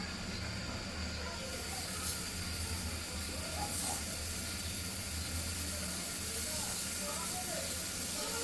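Dried fish frying on a griddle over a layer of salt: a constant soft sizzling hiss, faint and steady throughout, with someone talking over it.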